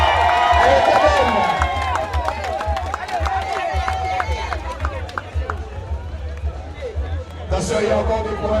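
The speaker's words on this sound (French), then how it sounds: "on applaudit tous les coureurs" Spectators clap and cheer as riders come in at a Tour de Guadeloupe cycling stage finish in Routhiers, with an announcer calling over a continuous crowd and a shrill whistle near the end.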